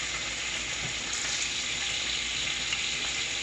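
Thick sirloin chops sizzle and fry steadily in a hot pan, a constant close, bright crackle with faint popping throughout and no voices.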